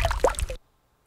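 A single water drop captured on an iPhone XR microphone, a short wet plop with a squishy liquid splash, close and clear, ending abruptly into silence after about half a second.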